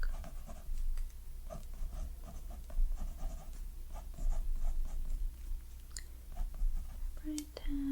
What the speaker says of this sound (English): I'm just going to write the name of the book.